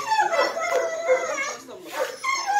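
A golden retriever, a gentle house dog, lets out yips and whimpering barks in short bursts, close by and fairly loud, mixed with people talking over it.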